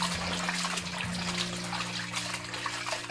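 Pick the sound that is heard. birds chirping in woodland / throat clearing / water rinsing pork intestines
water rinsing pork intestines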